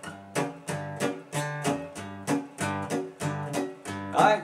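Strummed guitar chords in a steady 2/4 pattern, about ten evenly spaced strokes alternating in a bouncing two-beat feel, clear and close with no talking.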